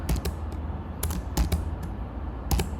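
A computer keyboard being typed on, short command entered with a handful of sharp, irregular keystroke clicks close to the mic over low room hum, no talking.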